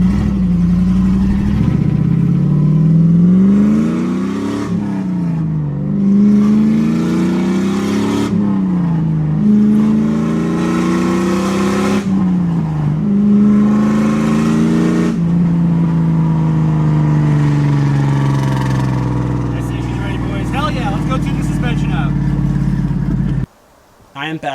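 Drift car on new tires driving with a steady mid-pitched engine note that rises and falls through repeated gear pulls and revs, heard loud from close by, easing off toward the end with a sharp cut.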